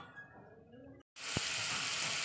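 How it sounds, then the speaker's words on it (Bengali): Spices frying in oil in a pan on a gas stove: a faint, quiet cooking sound, then a brief gap, then a loud, steady sizzle that begins with a sharp clink. "এবার ভালো করে এটা তেলের সঙ্গে মানে কষিয়ে নেব"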